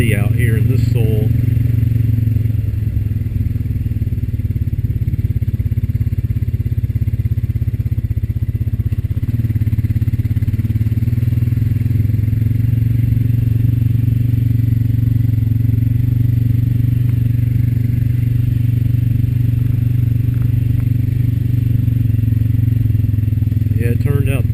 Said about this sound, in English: it turned out to be a real nice day for a ride